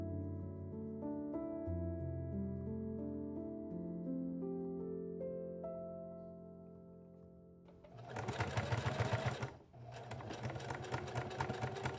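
Sewing machine stitching a corset front busk on an 1870s-style corset, a whining motor tone that steps through pitches as it runs, then a burst of loud rapid clattering stitches, a brief pause, and more stitching.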